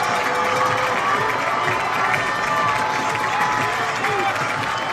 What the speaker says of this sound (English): encouraging the crowd to get going, making a whole bunch of noise.